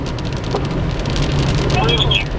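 Rain patters steadily on a moving car while it drives past Six Flags Great America in Gurnee, Illinois, on an August evening, a constant close hiss with road rumble underneath and a brief squeak near the end.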